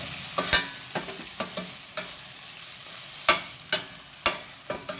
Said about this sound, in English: Keep sauteing until it becomes like a gravy.